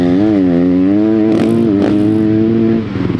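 A Triumph dirt bike on a hard enduro rock training trail revs loudly nearby, its pitch rising and falling in a few quick throttle blips before easing off near the end.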